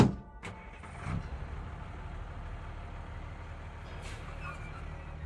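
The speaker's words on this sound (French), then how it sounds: "Il a immédiatement traversé la route jusqu'à son camion, est monté à bord et est parti." A truck engine cranks and catches with a sharp burst, followed by a brief hiss, then settles into a steady low rumble as the vehicle pulls away, close and continuous without voices.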